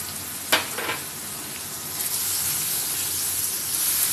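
Goat brain sizzles loudly in a hot pan with chilli, turmeric and cumin powders, a steady hiss broken by a sharp spatter near the start as the mixture is stirred.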